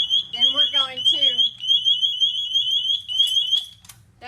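A firefighter's air-pack motion alarm shrills with a steady high-pitched tone that keeps sounding while a person talks over it nearby.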